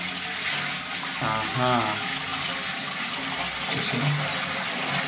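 A leaking household toilet flushes and its cistern refills with a steady, broadband rush of water, loud and continuous, while someone briefly speaks over it.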